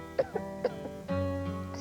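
A woman with the flu gives four quick, sharp coughs close to the microphone, then a sustained voiced groan that trails off.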